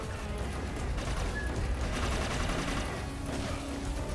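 Rapid automatic shotgun blasts fire in the game Inversion's survival mode, a dense, loud volley of overlapping shots and mechanical clatter running continuously with no pauses.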